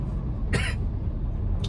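A single short cough rises over a constant roar of an air conditioner running nonstop indoors, and a faint catch of breath follows near the end.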